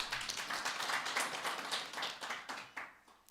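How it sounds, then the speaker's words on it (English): An audience claps together at the launch of a Responsible Care Kenya chapter, a soft, fairly distant patter of hands that runs for a few seconds and fades slightly at the end. "let's clap for ourselves"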